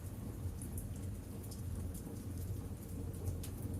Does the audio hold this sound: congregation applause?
no